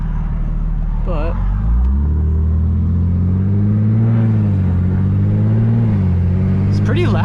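BMW 340i xDrive fitted with a top-mount single turbo kit and loud exhaust, idling with a deep, steady rumble and rising in a few throttle blips, close and loud throughout.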